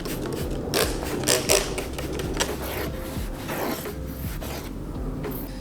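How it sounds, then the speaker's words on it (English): Thick 3M double-sided tape is peeled and pressed onto a duckbill spoiler for a Toyota GR86, with irregular crinkling, ripping and rubbing sounds up close and no talking. "So let's go ahead and put the 3M tape on."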